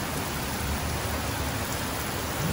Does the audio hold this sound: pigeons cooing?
no